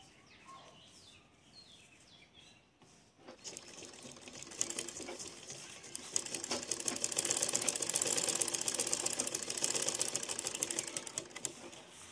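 After a quiet start with faint chirping, a sewing machine stitching blouse fabric whirs into a rapid, steady run that grows louder and continues to the end.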